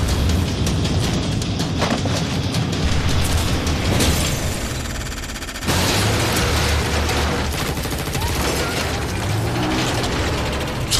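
Bursts of gunfire and explosive booms crash through a dense action-movie trailer mix for China Salesman, loud and continuous with heavy rumbling impacts and a sharp break midway.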